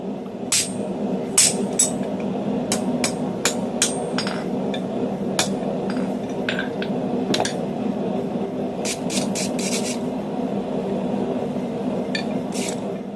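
Hammer strikes ring out on hot steel tongs being forged with a guillotine tool and half-round swage dies, coming in uneven bursts of sharp metallic blows over a steady hum of fan or forge noise.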